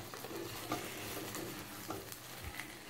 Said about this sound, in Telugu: కుండ కాలింది అంతేగాని ఆయిల్ చూడండి ఎలా ఉడుకుతుంది